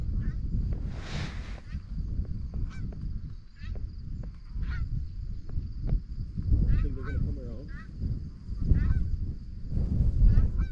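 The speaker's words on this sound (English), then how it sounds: "But we got geese on the left, geese on the left." A flock of geese honks repeatedly in the open during a goose hunt, calls scattered and overlapping at moderate distance over steady wind noise and rumble, with occasional low voices nearby.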